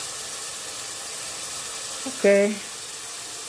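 Carrots, onions and celery fry in a pan for ragù bolognese, a steady soft sizzle running throughout beneath one brief spoken word.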